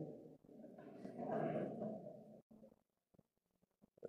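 A voice imitates a howling sheep, a sustained, rising and falling vocal howl lasting about two seconds, followed by brief scattered sounds and near silence.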